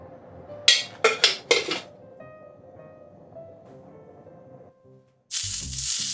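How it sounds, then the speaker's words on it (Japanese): Pork chashu goes into a hot frying pan for searing: a few sharp clinks of the pan and utensils come first, then a loud, steady sizzle rises near the end. No one talks. "そしたらフライパンを熱してチャーシューの表面を焼き香ばしい焼き目をつけていく。"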